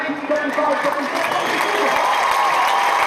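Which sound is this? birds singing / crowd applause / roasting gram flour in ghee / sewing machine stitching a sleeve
crowd applause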